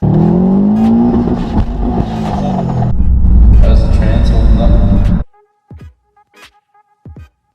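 A Subaru WRX engine revs hard and steadily for about five seconds, loud and close, then cuts off abruptly, leaving a few faint clicks and brief noises.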